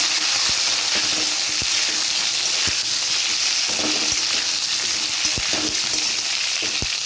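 Brinjal and potato pieces fry in hot oil in a pan for a fish curry, giving a continuous close sizzle. Repeated sharp taps and scrapes come from the spatula stirring the vegetables, and no one speaks.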